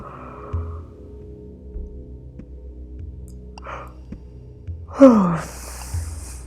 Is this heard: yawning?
yes